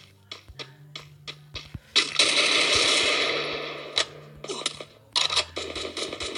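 Gunfire in a shooting video game: separate single shots at first, then a long, loud automatic burst, then more rapid volleys near the end, with no talking.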